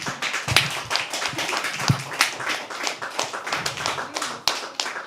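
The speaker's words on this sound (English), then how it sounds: "Can we please have another round of applause?" Audience applause at a live poetry open mic, a dense burst of hand clapping that stays steady and close for several seconds with no voices over it.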